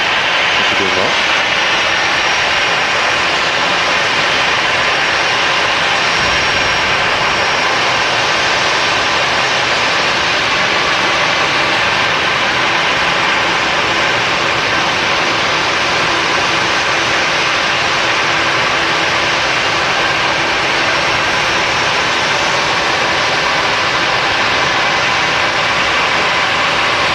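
At Manchester Airport, business jets taxi out one behind another, heard as a constant loud engine whine and broadband roar over the full stretch, with a voice talking over it.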